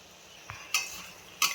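Carrot halwa mixed with crumbled khoa peda is stirred in a pan, giving a few quiet, brief scrapes and soft clinks against a low background.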